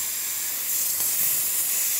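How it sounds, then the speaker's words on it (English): Steady, broadband hiss of the steam wand on a Breville BES900XL espresso machine venting, loud and continuous, swelling slightly partway through with no voices. "Having excellent pressure coming out of the steam."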